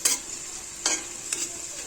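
Green peppers frying and being stirred in a pan, a steady high sizzle broken by three short scraping stirs, close and alone with no talk.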